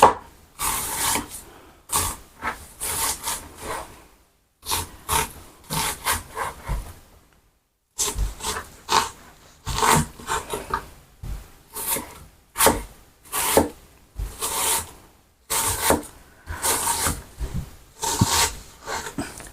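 A knife slowly cutting through pieces of black chicken, in repeated deliberate strokes, each a close rasping scrape separated by short pauses, with no talking.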